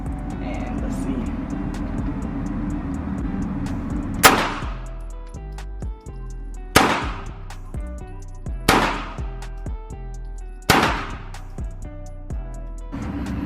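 Four loud, close pistol shots from a P80 Glock 26 at a shooting range, fired with a standard 15-round magazine, spaced about two seconds apart, each with a sharp crack and brief echo, preceded by low background rumble.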